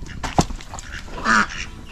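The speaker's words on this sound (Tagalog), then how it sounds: "Bibi tsaka itik pabo." A few short, nasal quacks from ducks nearby, one sharp call followed by a longer honking quack, over faint farmyard background.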